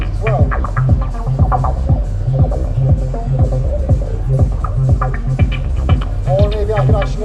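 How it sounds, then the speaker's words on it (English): Synth bass line with distortion applied, a loud, steady throbbing pulse with regular thumping beats and gritty upper harmonics running throughout. "on the bass line, I can add like a distortion effect here"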